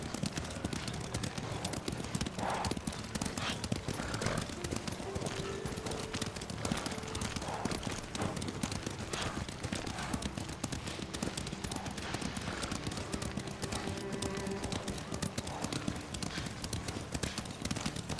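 Horses' hooves clip-clop steadily in the Ghost of Tsushima video game as riders travel at a walking pace, a continuous rhythmic patter under a low ambient bed, with faint speech at times.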